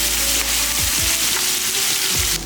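Ginger garlic paste and thinly slit green chillies fry in a pan, giving a steady, close sizzle with a few soft stirring thumps throughout.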